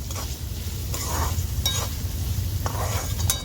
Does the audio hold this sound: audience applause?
no